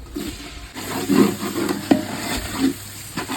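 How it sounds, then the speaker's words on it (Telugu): Tomato pieces drop into a pan of frying biryani masala with onion, green chilli and ginger-garlic paste, giving a steady close sizzle with stirring and a few louder scrapes, no talk. "ఇప్పుడు టమాటా ముక్కలు వేసేస్తున్నాం"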